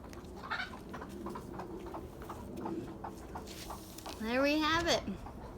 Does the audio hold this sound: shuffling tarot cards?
no